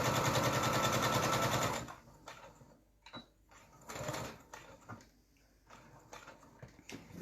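A sewing machine runs a quarter-inch seam on a small rice bag in a fast, loud burst lasting under two seconds, followed by quiet handling knocks and rustles.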